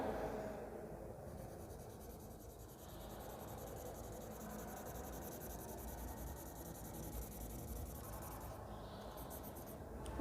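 Close-up, continuous scratchy rubbing of someone writing on a board during a biology lesson lasts about ten seconds, with steady texture and no speech.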